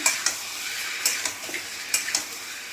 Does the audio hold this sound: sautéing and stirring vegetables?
yes